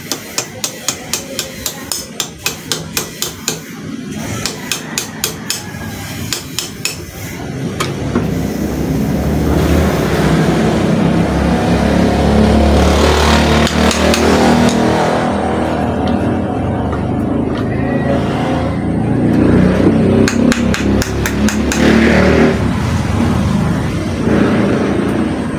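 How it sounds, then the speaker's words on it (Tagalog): A stand fan's shaft is hammered to loosen it, with rapid metallic taps in quick bursts at first, then giving way to a loud continuous whirring roar. "kaya pipupok natin para hindi maigpit yung shafting"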